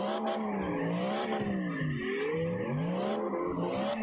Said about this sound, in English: You're just constantly drifting smooth.